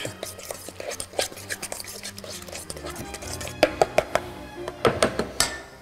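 A utensil stirs a steak salad with lemon and finely chopped green onion in a bowl, giving scattered clinks and scraping taps that grow sharper and more frequent toward the end. The sounds are close, with faint background murmur.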